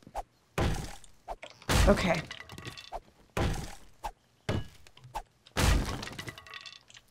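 Wood debris being broken apart in a video game, a series of loud crunching, splintering hits in irregular bursts with short gaps, close up, with a brief bit of speech.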